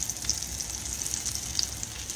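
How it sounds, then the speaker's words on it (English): Pork chops sizzle in olive oil in a pan with a soft, steady crackle and scattered little pops, fairly faint and continuous throughout. "this is beginning to sizzle just a little bit right here"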